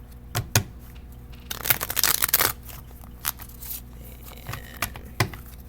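A stack of flashcards shuffled by hand, brisk papery riffles and soft taps in short irregular bursts, with one denser flurry in the middle, close and fairly quiet.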